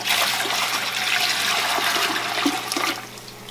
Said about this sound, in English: Now I'm adding the rest of the water.